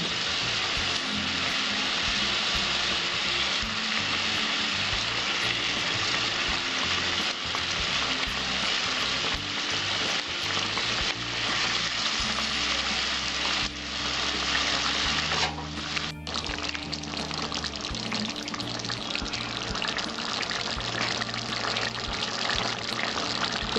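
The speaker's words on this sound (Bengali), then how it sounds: "ঝোলটা ফুটে উঠেছে, মাছগুলো আমি ছেড়ে দিচ্ছি।" Pomfret fish drop into boiling curry gravy, which bubbles and sizzles in a continuous, dense hiss up close, with a brief clatter partway through and no talking.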